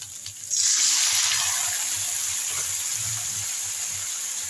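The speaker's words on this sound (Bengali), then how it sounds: "এরপরে আমি টমেটোটা দিয়ে দিচ্ছি।" Tomato drops into hot oil with frying onion, ginger and garlic, setting off a sudden loud sizzle that stays as a steady hiss and slowly eases.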